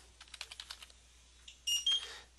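Typing on a computer keyboard during work in mapping software, a quick run of soft, close key clicks, then a brief pause and two louder, sharper bursts.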